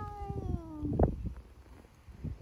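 A cat gives one drawn-out falling meow near the start, close and fairly clear, followed by quieter shuffling and faint background noise.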